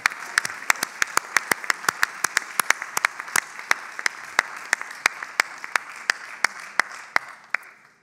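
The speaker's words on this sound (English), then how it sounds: "So let's give a big round of applause to all our Bachelor of Science students" A graduation ceremony audience applauds Bachelor of Science graduates, a steady wash of many hands with sharp individual claps standing out near the front, fading at the end.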